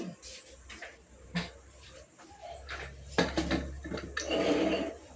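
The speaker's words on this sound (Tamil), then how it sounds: "அப்படியே மூடி வச்சிடலாம் குக்கரை." A metal pressure cooker lid is set on and closed with a few clanks and scrapes, followed by a louder rattle of metal against metal.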